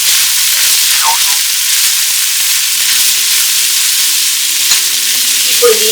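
Field beans frying with chili powder being stirred in, a loud dense continuous sizzle close up, with occasional faint scrapes and taps of the spoon against the pan.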